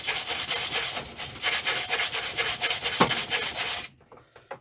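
Wire brush scrubbing a part on a Honda GCV160 lawn mower engine, a steady, loud, rapid back-and-forth rasping that runs continuously for nearly four seconds, then stops abruptly, leaving a few faint scraping touches.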